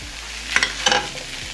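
Potato and green beans sabzi being stirred in a pan, a soft sizzle with two brief bursts of scraping from the spoon, close by and with no talking.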